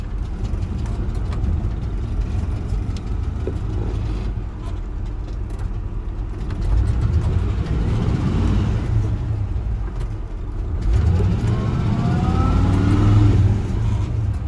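A truck engine runs with a steady low rumble, then revs up twice, the engine note rising and swelling louder toward the end, heard alone without talk.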